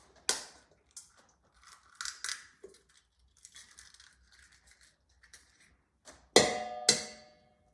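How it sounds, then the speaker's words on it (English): Eggs cracked into a big bowl, sharp cracking taps near the start and two loud crisp cracks with clinks toward the end, separated by softer handling sounds. "We want to crack the eggs."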